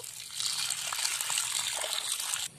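Water gushes steadily into a bowl of about 100 g of chana dal to soak it, a close, continuous pouring rush lasting a couple of seconds before cutting off abruptly.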